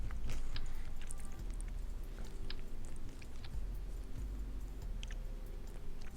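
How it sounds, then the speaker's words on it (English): Doritos chips crunch in someone's mouth, a faint, irregular run of crisp bites and chewing clicks spread over several seconds against a low background hum. "you're going to hear some Dorito crunching."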